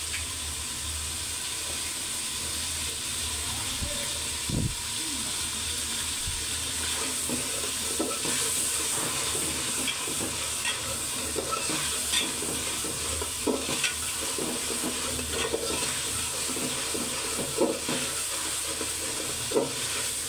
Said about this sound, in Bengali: এখন মাছগুলো দিয়ে আর একটু ভালো মতো মাছ মশলা একসাথে কষাই নেবে